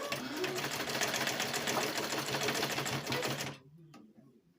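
Sewing machine stitching a small fabric face mask for kids, a rapid continuous mechanical whir and needle clatter, close and steady, stopping abruptly near the end to near silence.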